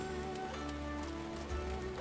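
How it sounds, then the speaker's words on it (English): Steady rain falls in the video game Final Fantasy XIV, a continuous even hiss of drops on a surface, moderately loud and unbroken, with no talk over it. "Oop. It's raining. Probably not a good time for stargazing then."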